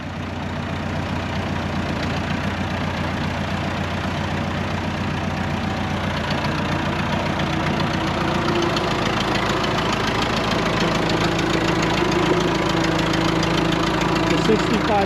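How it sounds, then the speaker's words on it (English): A backhoe engine idles steadily with a low, continuous rumble while lifting a 1965 truck cab onto a trailer, the drone close and unbroken throughout with slight shifts in pitch toward the end. "Using his backhoe, he's just going to place it"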